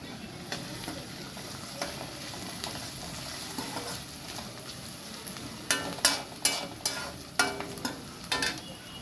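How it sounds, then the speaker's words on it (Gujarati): Cumin, onion, ginger, garlic and chili fry in hot oil, a steady sizzle running throughout, with sharper stirring scrapes and spatula clatter growing louder and more frequent toward the end. "હવે આપણે તેલ ગરમ થઈ ગયું છે આપણે એમ નાખીશું જીરું હવે આપણે નાખી દઈશું કાંદા હવે આપણે નાખી દઈશું આદુ લસણ અને મરચી"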